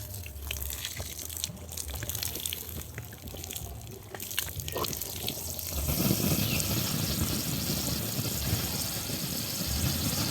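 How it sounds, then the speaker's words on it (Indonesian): Water splashes and hisses over smouldering rice husk charcoal, a steady broadband rush building from about six seconds after quieter crackling, close and fairly loud with no voices. "Ini tinggal disiram menggunakan air."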